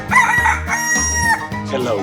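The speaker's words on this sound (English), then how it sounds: "Chicken." A rooster crows in a 3D animal video game: one loud, drawn-out cock-a-doodle-doo lasting about two seconds, close and clear, with a bright, rising and falling tone.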